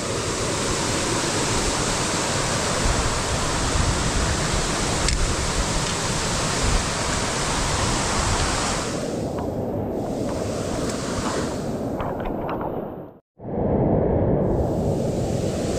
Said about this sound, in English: And still an impressive waterfall.